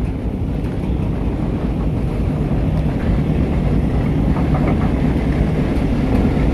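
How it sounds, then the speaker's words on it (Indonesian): A constant heavy rumble of a work train passing directly underneath, on Jakarta–Bandung high-speed rail track-laying, a dense low roar mixed with buffeting wind noise throughout. "Rangkaian kereta kerja bersilang langsung di bawah dengan kereta api Indonesia"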